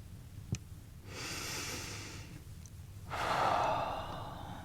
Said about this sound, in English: Breathing with movement.